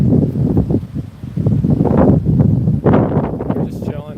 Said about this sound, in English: It's nice and windy.